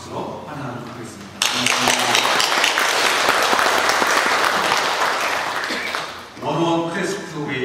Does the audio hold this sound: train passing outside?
no